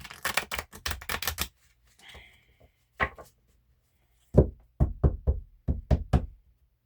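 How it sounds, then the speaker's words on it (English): Playing cards being shuffled by hand in a quiet room, with bursts of rapid riffling flutter, a short gap, then a series of sharp, distinct taps and riffles close to the listener, alone without talk. "And one more shuffle"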